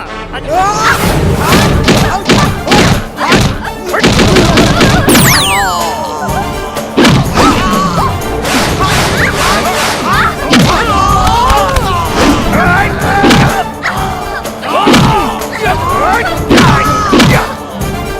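A Chhattisgarhi comedy film fight scene delivers loud, rapid punches, thuds and whacks in dense bursts, mixed with shouting voices and a swooping sound effect throughout.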